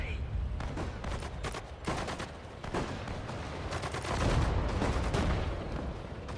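Dense, continuous gunfire and explosions from a World War II real-time strategy battle in Sudden Strike 4 at Sedan, with rapid overlapping shots and bursts throughout, growing heavier toward the end.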